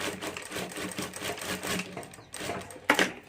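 Sewing machine stitching fabric and a zip for a handmade hand bag, a steady close mechanical whir running throughout with a brief pause near the end before a sharper clatter.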